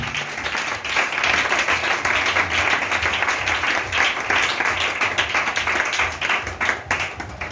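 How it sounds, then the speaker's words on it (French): A church congregation applauding loudly and continuously, dense clapping that holds steady throughout with faint cheering mixed in. "Si tu es d'accord avec cela, acclame fortement Jésus"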